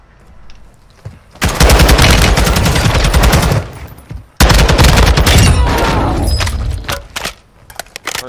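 Bursts of rapid automatic gunfire from a semi-automatic gun in a shooter video game, two long loud volleys separated by a brief pause, then sporadic shots trailing off.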